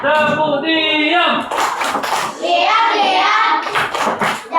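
Schoolchildren clap in short rhythmic bursts as part of a classroom chant, the claps landing in quick groups amid loud chanting and a teacher's voice, all close by.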